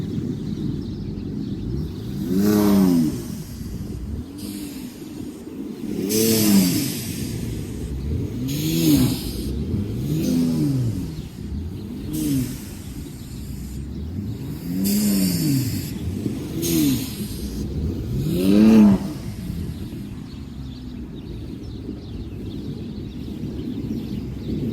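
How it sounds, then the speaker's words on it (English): A car stuck in snow has its engine revved repeatedly while the wheels spin, giving a series of rising and falling engine surges close by, with short pauses between bursts. "try spinning it a little bit here in this area"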